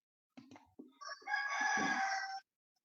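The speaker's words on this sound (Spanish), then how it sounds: "Se escucha un gallo." A rooster gives one clear, loud cock-a-doodle-doo crow lasting about a second, preceded by a few short clucking or rustling sounds, with no talk over it.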